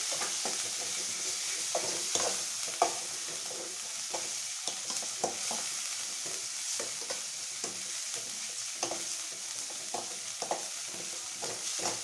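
Ginger garlic paste frying in a pan for egg keema gives a steady, close sizzle, with spatula scrapes and clicks scattered throughout and no talking.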